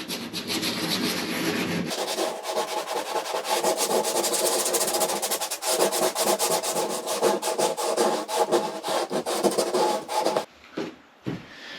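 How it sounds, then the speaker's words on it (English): Sandpaper roughs up a small patch of a kayak's plastic hull ahead of fitting a fish finder transducer pad, a close, steady scratchy rubbing in quick back-and-forth strokes that stops near the end. "we just work out exactly where we want to position the transducer pad, and then we can just lightly rough up that area"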